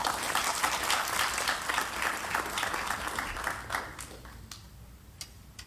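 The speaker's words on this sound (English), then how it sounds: "Please give them all a round of applause." Crowd at the 14th Belize International Film Festival gives a steady round of applause, moderately loud and continuous, thinning out into a few distinct late claps near the end.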